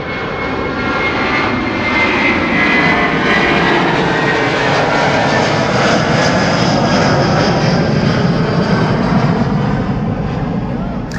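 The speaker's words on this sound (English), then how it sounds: "In the meantime, Qatar taking off." A Qatar Airways jet taking off at Schiphol airport, a loud continuous roar of jet engines that stays strong and close throughout, with a voice talking faintly over it.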